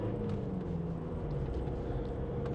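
A 2021 Ford Transit Custom van with a 2.0 EcoBlue diesel engine climbs a hill, giving a low, steady thudding drone heard from inside the cab.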